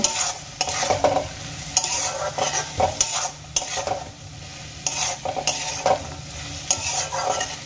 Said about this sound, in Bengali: এবার মশলাগুলোকে ভালো করে কষিয়ে নেব।